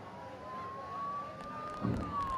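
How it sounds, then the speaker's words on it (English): A siren from the Persona 4 Golden video game, a steady wailing tone that slowly rises and falls at moderate distance over a low background hum, with a brief thump near the end. "Don't those sirens sound really close?"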